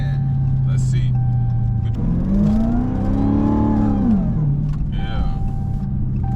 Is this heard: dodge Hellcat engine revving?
yes